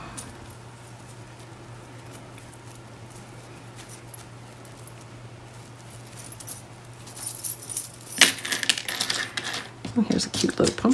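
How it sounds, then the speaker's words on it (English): Small metal craft charms clink and jingle as a package is opened and handled, faint rustling at first, then bright, close metallic clatter in the final seconds. "now I'm going to open up my charms and see what's in here."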